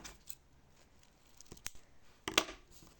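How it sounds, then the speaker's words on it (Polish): Scissors snip through adhesive tape during a paper craft, a few short, close cuts scattered across a quiet room, with one sharper, louder snip near the end. "Trzeba uciąć trochę taśmy, żeby było,"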